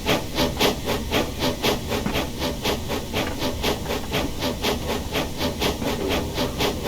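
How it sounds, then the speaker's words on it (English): Wayside Works Cockatiel 0-4-0T tank engine steam locomotive in Train Simulator Classic, chuffing in a steady fast rhythm of sharp hissing exhaust beats, loud and close, with no talking. "I like the chuff sounds."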